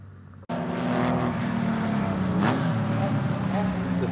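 A Porsche RWB car circles a race circuit, its engine note loud and steady after a sudden start, the pitch dipping and rising as it drives past, with a voice talking over it.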